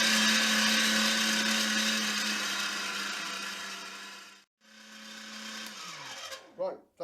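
A meat mincer runs loud and steady while lean pork shoulder and belly pass through its coarse plate. The motor cuts out briefly partway through, restarts, then winds down to a stop with a few clunks at the end.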